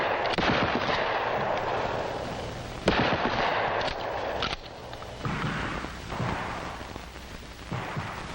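Shotgun blasts fired during a 1960s FBI shooting training film, several sharp reports spaced irregularly over a continuous band of noise, one especially hard crack near the middle.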